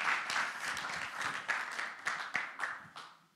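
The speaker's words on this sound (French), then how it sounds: "Est-ce qu'on peut applaudir pour notre assistant?" Audience at a seminar for singles clapping for an assistant: a dense patter of hands with a few sharper claps standing out, moderately distant and steady for a few seconds, no voices over it.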